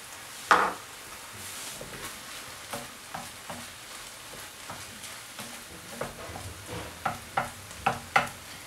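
Peas sizzling in a frying pan for chicken and vegetable samosas, a soft frying hiss broken by irregular utensil scrapes and clacks that come faster and louder toward the end.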